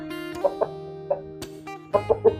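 Bangkok rooster clucking in short bursts, about six loud clucks spaced irregularly over a steady low background hum, close to the microphone with no talking.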